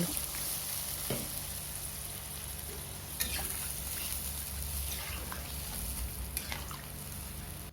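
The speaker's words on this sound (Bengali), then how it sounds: "ভেজে রাখা আলু আলু দিয়ে ভালো করে নাড়াচাড়া করে আর একটু কষে নিলাম" Fried potatoes being stirred and browned further in a pan, a quiet steady sizzle with scattered scraping stirs and clicks of a spoon, close but faint, no talking.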